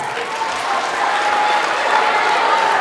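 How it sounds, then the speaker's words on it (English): A crowd gives a final round of applause at the close of a motivational talk, sustained dense clapping that swells slightly midway and stays loud and even to the end. "One more round of applause for everybody."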